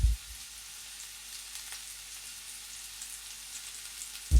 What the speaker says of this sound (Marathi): तेल छान गरम झालं की यामध्ये आपल्याला दोन मध्यम आकाराचे कांदे बारीक चिरून घालायचे आहेत